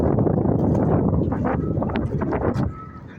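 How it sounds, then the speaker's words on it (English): Cold, strong wind buffets an outdoor microphone with steady low rumbling gusts that fade out near the end. "it's cold and it's windy"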